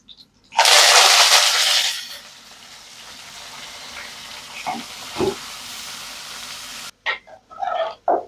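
Mustard seeds, dried red chillies, onion and curry leaves hit hot oil for a sambar tempering, bursting into a loud, dense sizzle that settles into steady frying with a few stirring clinks, then briefly cuts out.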